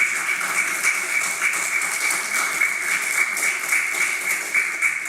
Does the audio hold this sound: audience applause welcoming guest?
yes